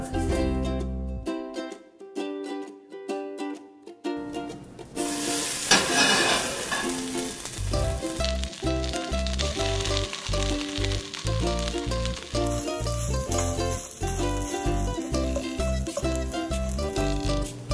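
Soyrizo sizzling and frying in a pan without added fat, a constant crackling sizzle with stirring scrapes, close and loud, while music plays throughout.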